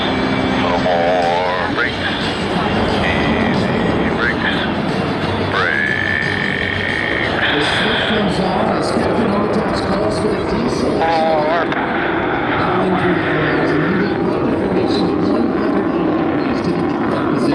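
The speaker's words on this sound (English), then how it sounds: "As the diamond accelerates into descent, they will acquire the necessary airspeed for their next maneuver." Blue Angels jets flying in diamond formation at an airshow, a loud continuous roar of engines throughout, with an announcer talking over it and crowd noise.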